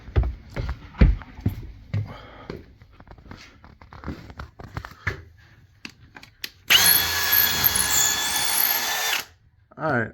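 A power drill drives screws into plain wood while mounting a temporary hose bib at a construction site, with one loud sustained whirring burst lasting a few seconds after earlier knocks and handling noises.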